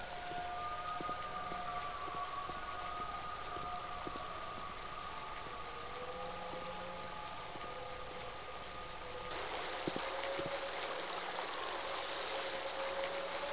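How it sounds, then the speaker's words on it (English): A waterfall in the adventure game The Dig rushes as a steady broadband roar of falling water, constant and fairly close, with faint musical tones drifting over it and a brief swell in the latter half. "It has to do with this waterfall up here."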